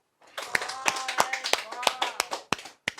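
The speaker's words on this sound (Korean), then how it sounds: "박수 한번 쳐주세요." Students in a math class clap at the teacher's request, a quick run of roughly eight or nine crisp claps in loose rhythm, heard over a voice talking at the same time.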